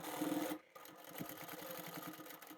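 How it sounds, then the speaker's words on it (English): A sewing machine stitching the side seams of a fabric bag made from swatch samples, a quiet mechanical whir with a brief pause before the motor resumes steadily. "I'll sew up those side seams first"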